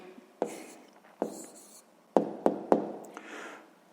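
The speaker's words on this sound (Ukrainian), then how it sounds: "Гаразд, записуємо тоді відповідь" A pen writes down the answer to a sixth-grade maths exercise in soft, faint scratches, punctuated by a few light taps of the pen on the page, close and quiet.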